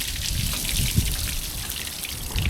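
Rainwater pours and trickles steadily into the passenger door step of a camper van, a close, continuous watery splashing and dribbling with no voices.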